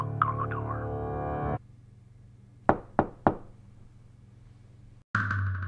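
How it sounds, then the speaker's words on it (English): Door knocks from a radio drama: three sharp, evenly spaced raps on a door in a quiet room, framed by background music that cuts out before them and returns after. "There was a knock on the door."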